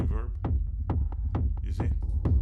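A dry, punchy kick drum pattern thumps in a steady groove, with short low hits and no lingering echo.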